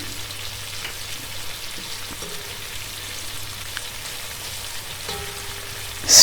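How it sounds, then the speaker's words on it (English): Onions with salt and garlic frying in a pan for turnip curry while being stirred, a soft continuous sizzle with occasional light scrapes of the utensil and a low steady hum underneath. "Stir for a few minutes."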